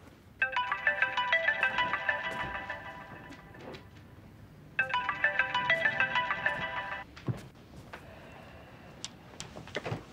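A mobile phone rings unanswered, two bursts of a bright melodic ringtone about two seconds each with a short gap between, fairly close, followed by quiet room noise and small clicks.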